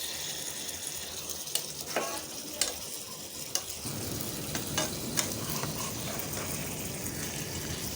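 Fried eggplant stirred into pickle masala in a pan, a close sizzle with sharp scraping stirring strokes, the frying growing denser and louder partway through, no talk.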